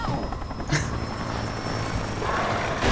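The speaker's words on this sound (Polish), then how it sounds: "Jakim cudem ten helikopter ma problemy z tymi krukami?" Helicopter in the Alan Wake video game, a steady loud rotor-and-engine roar filling the clip, with a brief sharper burst near the start and rising noise at the end.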